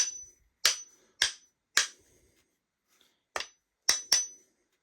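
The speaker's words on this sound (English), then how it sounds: "So I go tap there, put your hammer down, check." Sharp metallic taps from a hammer on the blade of a Japanese hand plane: seven crisp clinks in uneven pairs and singles, each ringing briefly in a quiet workshop with nothing else heard.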